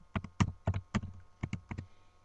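Fingers tap out a search phrase on a computer keyboard in quick bursts of clicky keystrokes with short pauses between, close and fairly quiet, with no one speaking.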